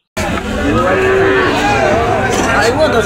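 Cattle moo loudly in long, drawn-out calls at a cattle market in Hajiganj, over a constant noisy background of a busy crowd.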